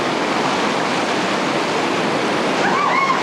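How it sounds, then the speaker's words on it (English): Whitewater rapids on the Ocoee River roar continuously in a broad, loud, unbroken rush of churning water, with faint voices at the very end. "Here these rapids link up into one long continuous rapid."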